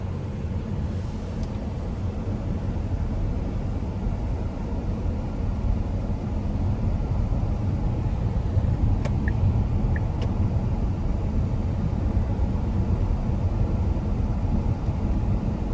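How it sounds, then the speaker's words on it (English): A 2016 Tesla Model S P100D electric car drives on the road, heard from inside as a steady low rumble of road and tyre noise that holds at an even level throughout, with no voices. "take this Tesla Model S P100D out on the road for a test drive"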